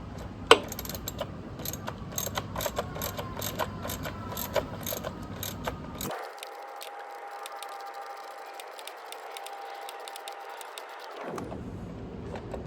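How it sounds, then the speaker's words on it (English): Wrench ratcheting as it tightens a nut while installing a Kit D battery lock, a close series of quick mechanical clicks and metallic rattles with a steadier whirring stretch in the middle. "we'll put the wrench on the one side to hold the nut, while on this side we tighten it up"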